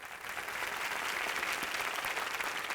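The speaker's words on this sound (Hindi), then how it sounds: "तो इनके लिए तालियां हो जाए" A studio audience on a Bhojpuri television show applauds a female performer, a dense, sustained wash of clapping from many hands at moderate loudness, continuous from start to finish with no speech over it.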